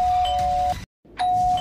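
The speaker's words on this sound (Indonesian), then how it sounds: "Bel itu berbunyi lagi." A doorbell rings as a sound effect in a horror story narration set at 2 a.m., two sustained electronic tones with a short silent gap between them, loud and clear over a faint low background.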